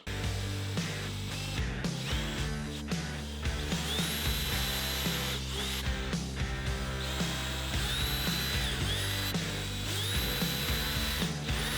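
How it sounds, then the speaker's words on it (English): Power drill boring countersink and pilot holes into a live edge wooden food tray, a continuous whining drone with repeated short bursts and pitch shifts as the bit bites and eases, close and loud, no talking. "now all we need to do is drill our pilot holes"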